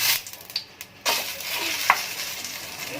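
Paratha frying in oil on a griddle gives a steady nearby sizzle, with a scrape and light metallic clinks of utensils over it and no talking.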